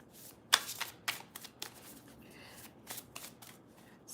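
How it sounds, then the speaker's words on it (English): Tarot cards shuffled and slapped down on a surface, giving a run of quick papery riffles and sharp flicks, close and fairly quiet, with short pauses between the bursts. "I'm going to go ahead and start throwing cards down."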